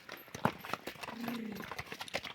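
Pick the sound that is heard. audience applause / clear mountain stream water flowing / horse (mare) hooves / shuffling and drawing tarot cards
horse (mare) hooves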